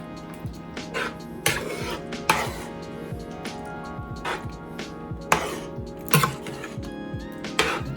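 A spoon scrapes and clanks against a pot as barbecue chopped beef brisket gets stirred, with irregular metallic knocks and clatters over a low background hum, close by and with no talk.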